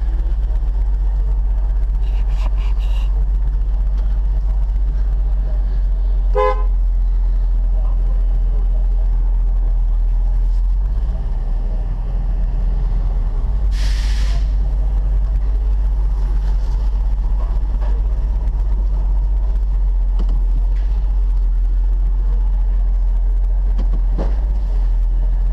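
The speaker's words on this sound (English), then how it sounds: "Start the vehicle." A vehicle engine runs with a steady, loud, low hum and a few faint clicks and knocks over it, and no voices.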